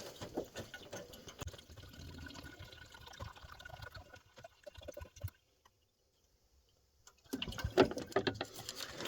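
About two litres of water glug and trickle as they are poured into a Jeep XJ, fairly quiet and close, with a pause of near silence before the pouring resumes more strongly.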